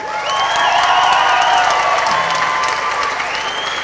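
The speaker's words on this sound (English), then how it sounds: "Give a rapturous applause for the one and only Joe" A theatre audience at the Halifax Victoria Theatre gives loud, dense, continuous applause, with cheers and whoops mixed into the steady clapping throughout.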